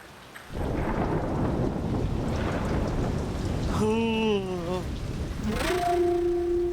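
Heavy rain pours steadily with thunder rumbling in a dense, loud wash. Brief wavering tonal sounds rise over the storm near the end.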